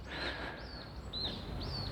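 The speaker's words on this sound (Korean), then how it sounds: "새소리가 좋습니다" Faint birdsong over a low room rumble: a few thin, high chirps and short whistled calls rising and falling in the distance.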